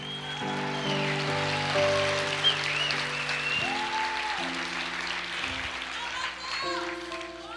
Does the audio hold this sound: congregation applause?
yes